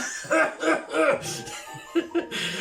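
A voice gives a few short, staged coughs in a bouncy rhythm, then two quick cough bursts follow, close and clear.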